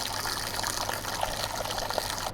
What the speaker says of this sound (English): Filling up the water bowl.